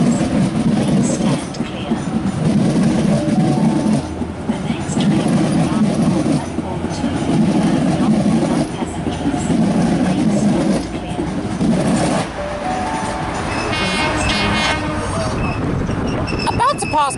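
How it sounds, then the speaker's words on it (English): A Sydney suburban train on a Richmond service pulls away from the platform at Milsons Point station, a loud rumbling roll with rail noise and a brief high squeal near the end. "A56 is now departing platform number 1 on a Richmond service"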